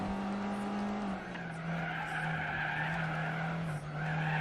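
Tires of a Mercedes-Benz SL skid steadily through a corner in the Gran Turismo 4 racing game, a sustained screech over a loud, constant engine drone that dips slightly in pitch partway through.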